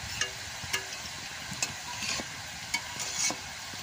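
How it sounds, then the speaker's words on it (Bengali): Jackfruit crisps frying in hot oil until crunchy, a steady close sizzle broken by several sharp scrapes and clinks of a stirring spoon against the pan, with no talk. "এখন বারে বারে জাল দিয়ে এইভাবে একটা মশমশা করে ভেজে নেব"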